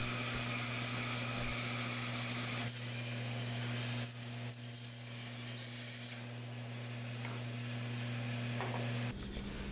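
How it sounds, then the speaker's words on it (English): A bandsaw cuts a round shape out of a piece of wood, giving a steady, loud machine hum with a hissing cutting noise on top that runs almost continuously and then winds down near the end. No one speaks. "I'm just cutting it out on the bandsaw"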